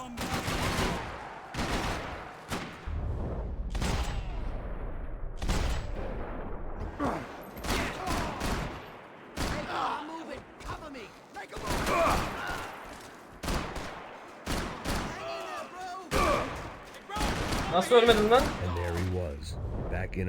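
Repeated gunfire bursts from the Max Payne 3 video game, loud sharp shots in clusters with short gaps, mixed with game sounds and someone talking over parts of it.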